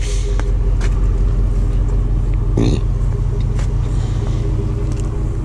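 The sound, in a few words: 2007 Chevy Impala SS engine running, warming up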